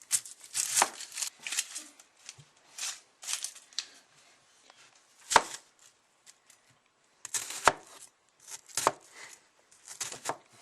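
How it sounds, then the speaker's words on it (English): Onions being finely chopped with a knife for a venison backstrap stuffing, a few sharp irregular knife strikes on a board separated by quiet gaps, close and fairly faint. "first chop up your onions, and I like to chop it pretty fine for stuffing purposes"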